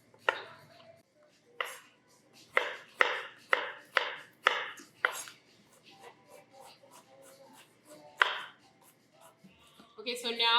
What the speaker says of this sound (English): So you just want to give your olives a rough chop,